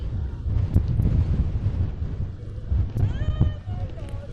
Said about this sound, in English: it's getting more windy down here